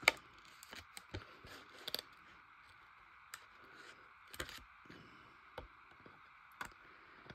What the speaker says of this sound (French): Je vais peut-être déjà enlever ce qui dépasse tout simplement du ciseau